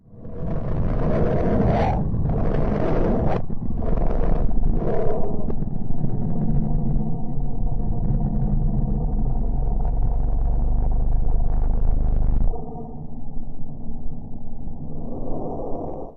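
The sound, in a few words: sonified sound of planet Mercury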